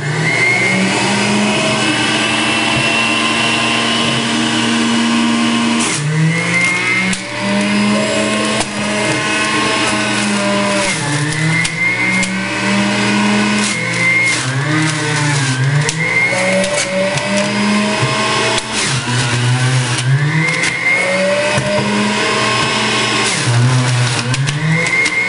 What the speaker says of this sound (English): I'm going to set the speed to high and start juicing.